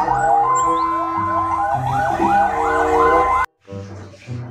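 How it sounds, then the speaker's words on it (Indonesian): A toy fire truck siren wails loudly in a rapid repeating up-and-down pattern, cuts off abruptly, then a short burst of clattering follows. "di sini ada truk pemadam kebakaran"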